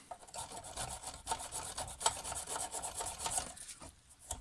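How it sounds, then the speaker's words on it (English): An old hand file rasps lightly across a hedge trimmer blade to clear burrs, a steady run of quick, close scraping strokes at low level with no talking. "This is just an old file, I'm not too worried about it, so just a couple of light little strokes."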